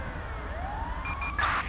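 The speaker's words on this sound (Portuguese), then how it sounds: "A ambulância já chegou e tá vindo prestar socorro a ele aí" An ambulance siren in the video game GTA V wails with a rising, sliding tone that climbs, then settles into sharper electronic warbles. It sounds moderately loud against a steady background rumble.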